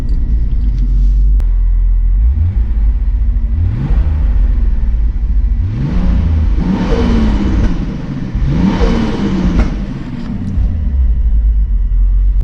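A turbocharged VW MK3 VR6 Variant accelerates nearby, its engine rumbling loudly and rising in pitch through several revs and gear pulls, with no talking.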